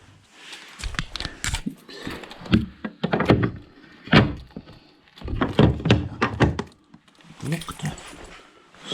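A house's sliding door rolls on its rollers, running fairly smoothly, making repeated rumbling passes and dull thunks as it is moved back and forth, close and fairly loud.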